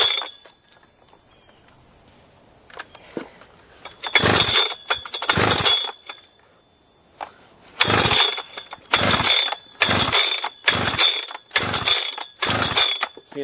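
A modded Husqvarna 3120XP chainsaw screams at full throttle and repeatedly bounces off its rev limiter, loud stuttering bursts separated by quieter idle gaps.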